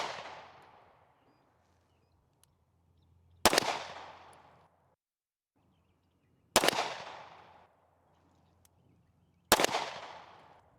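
Three sharp, loud gunshots ring out several seconds apart while a red dot optic is zeroed, each crack followed by a decaying echo over an outdoor range.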